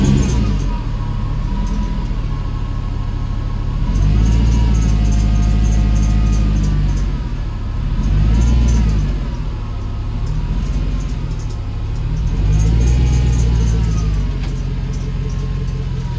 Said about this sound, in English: I'm backing her all the way down the driveway